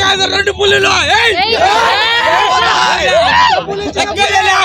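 Fans at a Devara trailer celebration in Madanapalli shout and cheer together, a dense, loud tangle of overlapping raised voices that fills the whole stretch with barely a pause.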